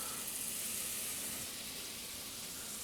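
A quarter cup of butter melting in a pan before a blonde roux, giving a steady soft sizzle and hiss with no voices.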